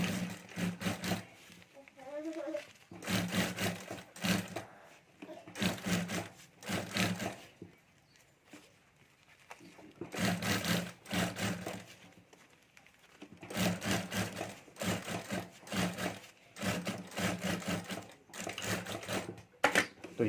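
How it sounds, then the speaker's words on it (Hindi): Sewing machine stitching around the edge of a homemade party-wear potli bag with a zipper, running in several bursts of steady mechanical chatter separated by short pauses. "तो अब यहाँ से मैं पूरे राउंड में सिलाई कर लेता हूँ।"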